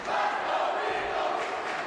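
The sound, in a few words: Plymouth North crowd chanting in hockey rink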